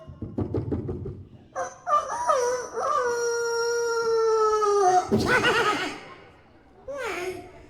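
A human voice imitates a rooster crowing, one long drawn-out wavering call, with shorter vocal yelps before it and a brief cry after.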